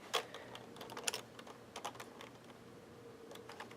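Rapid, uneven clatter of keys on a computer keyboard, close and fairly quiet, with short bursts of keystrokes and brief pauses, no voices.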